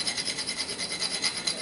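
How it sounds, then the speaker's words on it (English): Whole nutmeg rubbed against a small nutmeg grater gives a steady, rhythmic rasping scrape, close and fairly quiet, repeating in quick strokes with no talking. "if I grate it until it's about filled up like that, that's about a half a teaspoon"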